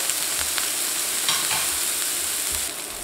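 Swordfish steak sizzling and frying in a pan, a steady loud hiss of hot oil with a few soft clinks and stirring bumps, close and continuous with no talking.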